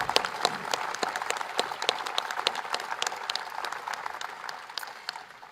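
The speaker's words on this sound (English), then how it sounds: "And that deserves applause." Audience applause at a presidential event, dense scattered clapping at moderate volume that fades gradually over several seconds.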